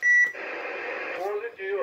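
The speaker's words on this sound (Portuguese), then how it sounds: "O bip aí ficou bom, hein?" A CB radio transmitter, a Cobra 19DXIV fitted with a roger beep board, gives a short sharp tone at the start, followed by a buzzy tonal transmission that shifts pitch near the end.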